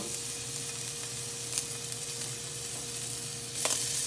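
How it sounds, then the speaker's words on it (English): Scallops sizzle in hot oil with steady sizzling and crackling throughout, with a brief burst of sharper spitting near the end; no voices. "Placing the scallops in the oil. You should hear a sizzle right away."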